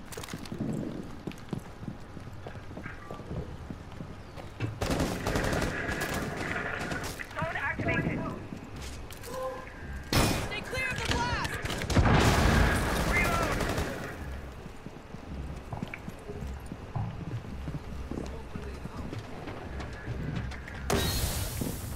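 Bursts of rapid gunfire ring out in a Rainbow Six Siege match, loud shots clustered in several volleys among footsteps and other game noise, with a person talking at points.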